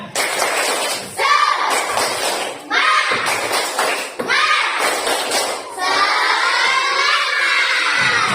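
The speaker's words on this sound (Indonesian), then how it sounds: "Kita akan melakukan tepuk semangat bareng-bareng." A class of children performs a rhythmic 'tepuk semangat' chant, shouting and cheering together in loud bursts broken by brief pauses, with thumps and taps of clapping mixed into the group voices.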